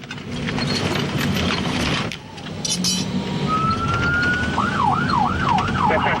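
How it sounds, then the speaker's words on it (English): Wailing sirens of an armed security convoy in Iraq over engine and road rumble, ending in a rapid rising-and-falling yelp repeated several times, loud and close. "The sirens warn Iraqi drivers to steer clear."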